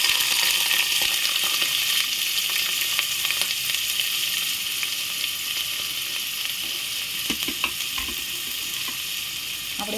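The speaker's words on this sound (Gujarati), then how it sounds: "આપણે એમાં ફુલેવર નાખી દઈશું." Cauliflower florets fry in a hot pan with a steady, dense sizzle and crackle that holds close and loud throughout, with a few faint stirring clinks beneath.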